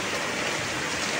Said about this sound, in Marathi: बीड जिल्ह्यामध्ये संततधार पावसाला सुरुवात झाली आहे